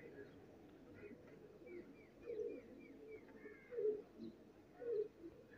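Indian pigeons caught at the Pakistan–India zero line border give three soft, low coos spaced a second or so apart, faint over quiet background noise and a few thin chirps.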